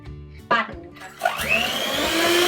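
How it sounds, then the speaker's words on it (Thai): An electric mixer starts up to whip meringue at high speed. After a couple of short bursts, the motor whine rises and holds steady, loud and close. "แล้วเราก็จะทำการปั่นด้วยสปีดสูงค่ะ"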